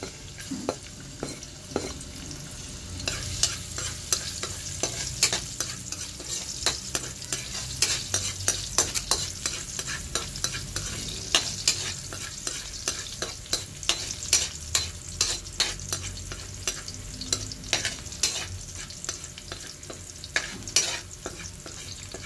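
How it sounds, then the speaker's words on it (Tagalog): Garlic, onion and tomato sautéing in a hot pan for Filipino mung bean stew with pork ribs and vegetables, giving a steady close sizzle with frequent spoon stirs and scrapes throughout. "magigisa tayo ng bawang, sibuyas, at kamatis"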